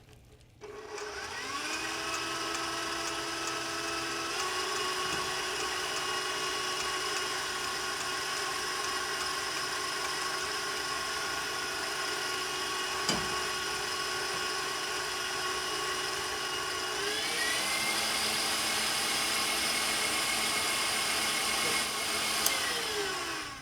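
A mixer whips egg yolks for chocolate mousse as hot sugar syrup streams in, giving a steady, loud motorized whir that holds one speed for a long stretch and then shifts pitch near the end.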